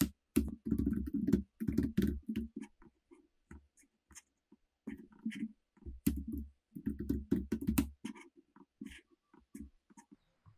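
Code is typed on a computer keyboard in quick bursts of close, crisp key clicks, with short pauses between the runs and no talking.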